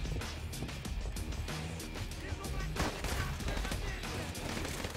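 Gunfire in Call of Duty: Modern Warfare Remastered, a dense stretch of repeated shots and bursts rattling through the whole clip over constant battle noise, with voices heard in the mix.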